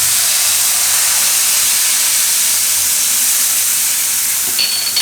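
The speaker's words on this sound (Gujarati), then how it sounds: "તો તેલ આપણે ગરમ મૂક્યું જ છે, તો તેલમાં આપણે નાખીશું મરચું કાશ્મીરી કલર માટે અને તરત ગ્રેવી નાખી દઈશું." Kashmiri red chili powder and gravy hit hot oil while tempering a Gujarati dum banana curry, giving a loud, steady sizzle that holds for about five seconds with no voices.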